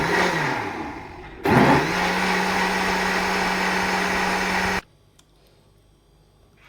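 Kitchen blender whirring at full speed as it churns cream with water into butter, a steady loud motor whine that starts, cuts briefly, restarts and runs several seconds before switching off into quiet.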